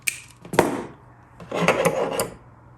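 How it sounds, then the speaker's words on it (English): Wire insulation being stripped while building a Fender or Squier Jazz Bass wiring harness: two short, close rasping scrapes, the second longer, with no talking. "Strip our wire once more"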